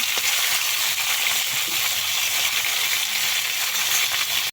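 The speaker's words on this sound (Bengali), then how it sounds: "চাল কুমড়োগুলোকে কিন্তু তোমরা ভালো করে কষিয়ে নেবে, লাল লাল করে, খুব বেশি আঁচে কষাবে" Ash gourd pieces fry hard over high heat until browned, giving a loud, steady sizzle that runs unbroken to the end with no talk.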